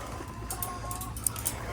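Free-range chickens clucking outdoors, a few short soft clucks and calls scattered over a low rumbling background, fairly faint and at a middle distance.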